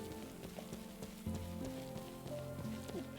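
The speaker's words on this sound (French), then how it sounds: "Ah, les journées de pluie, c'est heureux" Rain in the farming game One Lonely Outpost, a soft continuous patter of drops over layered game music tones, no talking.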